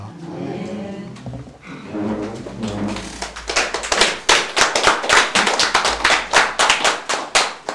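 Applause at a Korean church service after a closing prayer, opening with sustained speech-like and organ-like tones before rhythmic, loud group clapping takes over in steady bursts for the remaining seconds.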